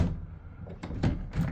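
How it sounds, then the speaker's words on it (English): A little sliding divider on a tiny houseboat's back door, a few short wooden knocks and scrapes as it slides and bumps, close by and without talk. "It does have the little sliding divider."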